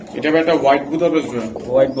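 Budapest pigeons at a pigeon sale coo in a continuous, warbling murmur mixed with close talking voices.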